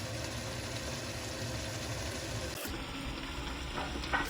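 Chopped potatoes fry in a pan for biryani with a quiet, even sizzle, a low hum underneath and a brief break partway through before the crackle resumes.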